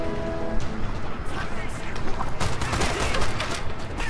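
Rapid gunfire and impact crashes from the video game Strider on Xbox One, dense and continuous over busy game sound effects, with a player's voice reacting loudly over the action.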